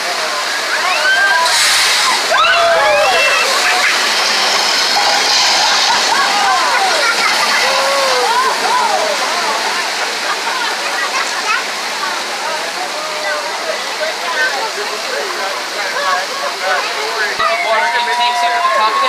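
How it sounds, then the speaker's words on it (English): Rushing water from opened floodgates pours and splashes continuously down a hillside theme-park ride set, with excited voices and shrieks rising over the loud cascade. "We open the doors and the water then cascades down."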